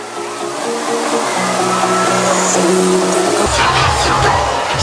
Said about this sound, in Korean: 수문을 열고 닫는 것은 유압식으로 되어 있어 닫힌 문이 열리면서 물을 배출한다고 하네요.